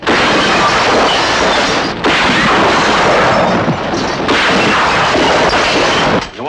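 A rifle is test-fired in an old Western setting, giving loud, dense booming reports that roll on for several seconds with brief gaps, close and harsh.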